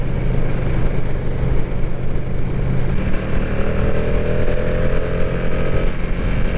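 Ducati motorcycle engine, either a 2020 Streetfighter V4 S or a 2020 V2 Panigale, droning steadily while riding on the road in fifth gear, a constant close rumble with a slight rise in pitch partway through.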